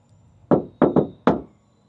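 Three knocks on the thin sheet-metal passenger door of a 2011 Chevrolet Tahoe with no sound deadening, close and hollow, a single rap followed by a quick double and then one more, with silence after.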